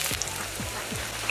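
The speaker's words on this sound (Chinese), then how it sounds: "把这些配料放下去爆香一下" Seasoning ingredients sizzling in a wok during stir-frying, a short burst of dense, steady crackling hiss heard close up with no talking.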